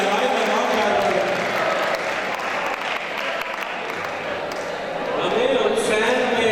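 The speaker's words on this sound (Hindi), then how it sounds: "यार तालियां बजाएं भाई" Dense, continuous clapping from a crowd at a mushaira poetry gathering at Chenab College in Jhang, with a voice speaking over it throughout.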